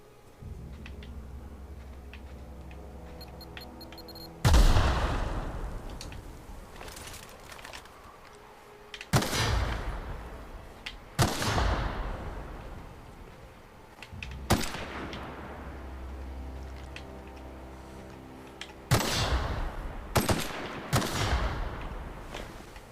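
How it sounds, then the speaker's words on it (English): A light machine gun fires in a video game in several loud, close bursts of rapid shots, separated by quieter pauses, with no talk. "Here's a light machine gun."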